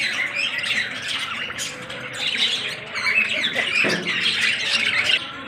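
Birds squawk and chirp repeatedly in a busy, continuous chorus at a park, fairly loud and close, with no talking.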